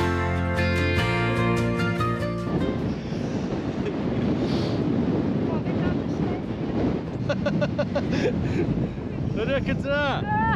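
Strong wind buffets the microphone in a constant roar, with brief tonal sounds at the start and some voice-like fragments near the end.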